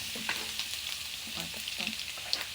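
Canola oil sizzles and crackles steadily in a pan while chicken pastel is being cooked, a close continuous frying hiss with occasional stirring clicks.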